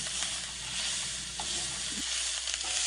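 Ginger paste hits a hot pan for a Bengali shukto, giving a short burst of hissing sizzle that stays close and fairly even for a few seconds, with no speech.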